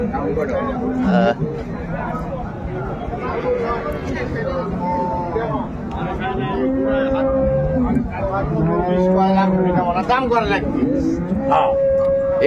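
Dairy cows and calves mooing at Raniganj cattle market in Dinajpur, drawn-out lowing calls rising over a dense crowd murmur and nearby talk throughout.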